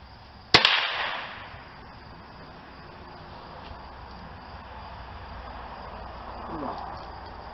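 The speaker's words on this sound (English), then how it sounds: "we're going to run the 40 grain round nose CCI mini mags for the first 5 shots" A single sharp report from a Remington 597 .22 rifle firing a CCI Mini-Mag 40 grain round nose round, loud and close, followed by a fading ring and quiet outdoor ambience with faint insect chirping.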